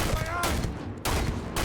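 Gunfire from the video game Starfield comes in loud, rapid bursts that fill the short clip, with one brief lull in the middle.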